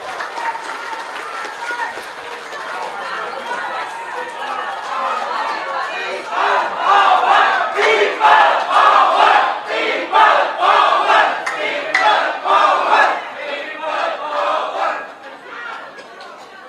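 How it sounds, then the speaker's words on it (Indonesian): Audience applause at a gathering, a sustained mass of clapping that swells and peaks in the middle before thinning out, with crowd voices mixed in. "Aplaus sekali lagi untuk beliau."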